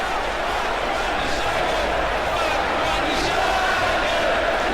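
Steady roar of a video game arena crowd during a women's wrestling match in WWE 2K, a dense continuous wash of noise holding at constant loudness throughout.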